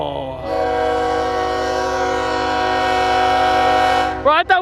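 A train passing a road crossing blasts a loud, sustained horn for about four seconds, then it stops abruptly. Excited voices follow right after.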